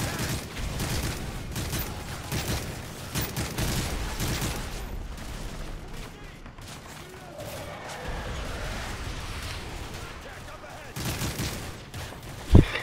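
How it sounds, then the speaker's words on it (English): Sustained rifle and machine-gun fire in Modern Warfare 3 rattles in dense bursts, with near and distant shots overlapping through a chaotic firefight and a sharp crack near the end. "Look, five people are shooting at that dude."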